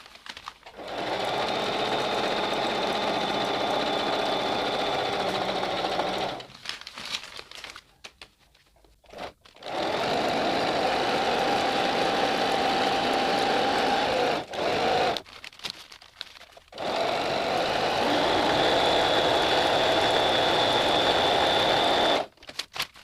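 A Singer Talent 3321 sewing machine stitching a designer blouse runs in three long, steady, loud bursts of rapid whirring stitches, separated by short pauses with faint handling of fabric.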